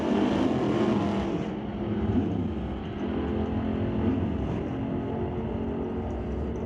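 Drag race cars, a 1966 Acadian and a 1968 Camaro, roar with a steady, broad engine rumble heard from a distance at the track, holding constant loudness throughout.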